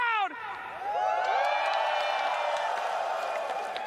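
An arena crowd at a Dota 2 International esports event erupts in sustained cheering and whooping that swells after a brief lull and carries on loudly to the end, with a voice heard at the start.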